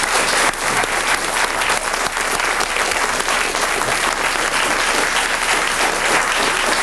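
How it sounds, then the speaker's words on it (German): Loud, dense audience applause fills a television animal show studio, sustained and even from start to finish with no voices above it. "Das ist dein Applaus, Etta."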